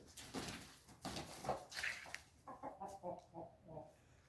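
A rooster, a sold Ligorin breed bird, gives a series of short, harmonic crowing and clucking calls near the end, after a burst of louder, broadband commotion and noise.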